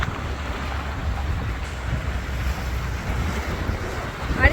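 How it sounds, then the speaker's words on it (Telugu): Sea waves roll in and break against rocks near water villas in the Maldives, a continuous rushing wash mixed with wind buffeting the microphone, ending in a slightly louder surge. "వాటర్ వేవ్స్ చూసారా ఎట్లా వస్తున్నాయి"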